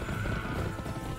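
A horse in the Western shooter video game Gun gives a brief, loud whinny over clopping hooves and dense background noise.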